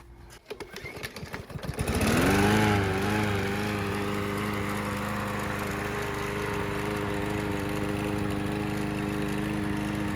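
A Troy-Bilt TB110 walk-behind lawn mower engine is pulled to life after a few rough cranks, then settles into a loud, steady running drone that holds without pause for the rest of the clip.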